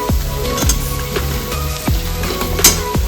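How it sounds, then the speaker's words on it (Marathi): Repeated thuds and scrapes of grated boiled potatoes hitting a hot pan and being pushed around for aloo paratha filling, with metallic clinks over a low sizzle, loud and close. "आता यात उकळलेले बटाटे टाकते।"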